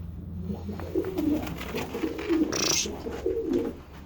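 Pigeons cooing close by during feeding, several soft throaty coos repeating in a loose rhythm, with a brief rustle or flutter in the middle.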